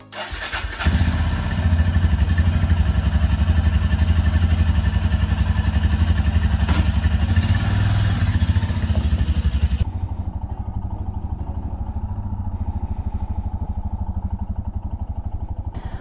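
A motorcycle on a summer morning ride in New Zealand: the engine starts, then idles and runs with a steady, close, throbbing rumble that drops to a lower, softer idle partway through, with no talking.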